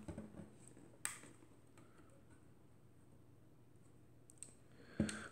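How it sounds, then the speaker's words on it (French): Diaphragm of a Voigtländer Bessa 46 folding camera with a Skopar 75mm f/3.5 lens being opened and closed, giving a few sharp, close mechanical clicks separated by quiet stretches. "Ouverture, fermeture du diaphragme"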